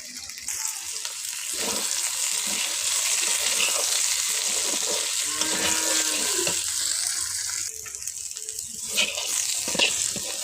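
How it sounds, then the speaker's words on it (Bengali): Potato and pointed gourd pieces fry in a pan, a close, continuous sizzle with scraping and clattering as they are turned and stirred, briefly louder midway, no voices heard. "এভাবে নেড়ে চেড়ে একদম সুন্দর লাল লাল করে ভেজে নেব"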